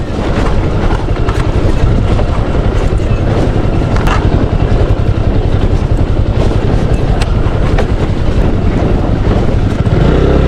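Loud, continuous engine roar of a motorcycle on the move, droning steadily throughout with heavy rumbling road noise and no pauses.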